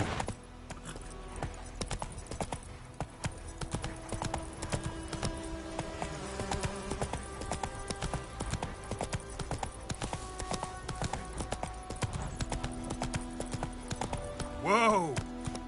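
Roach the horse gallops in The Witcher III game, a continuous rhythmic clip-clop of hooves over a buzzing ambience, with a brief whinny near the end.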